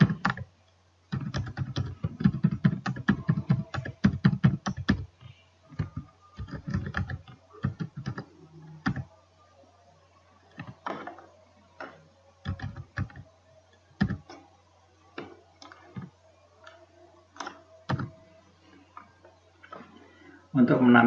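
Keys clatter on a computer keyboard as a network routing command is typed, with dense runs of clicks and short gaps between them, close by. A voice speaks at times between the bursts.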